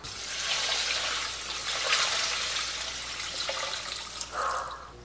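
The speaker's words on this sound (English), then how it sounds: "We're gonna fill this up with water." Water runs steadily into a large stock pot sitting on a home stove, a continuous splashing hiss that shifts in pitch as the pot fills, fairly quiet and close, with no voices.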